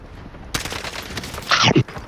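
Rapid automatic gunfire in a Call of Duty battle royale match crackles in a sustained loud burst, followed by a sharper, brighter volley near the end. No voices are audible.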